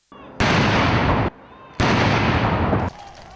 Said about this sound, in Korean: 나흘간의 축제를 알리는 대포가 발사되고